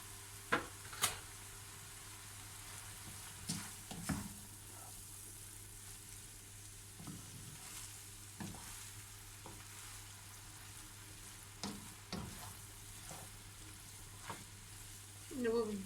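Dried green beans with minced meat sauté in a pan, a soft continuous sizzle broken by scattered scraping stirs and light clicks of the utensil, heard fairly quietly with no talking.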